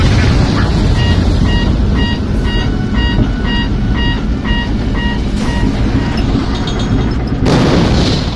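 Missile explosions in a PS4 flight combat game: heavy booms burst through a loud, constant jet roar, while a rapid warning beep repeats steadily before a final blast.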